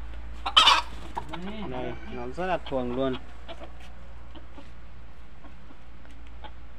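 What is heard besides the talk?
jungle fowl clucking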